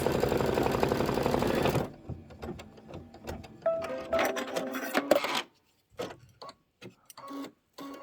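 Embroidery sewing machine stitching a satin stitch outline: a rapid, steady mechanical whir for the first two seconds, then softer intermittent ticks, clicks and short bursts of stitching with pauses between.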